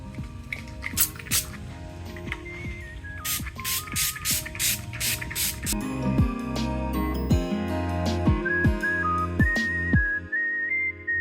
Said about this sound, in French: Un petit coup de spray, c'est parti.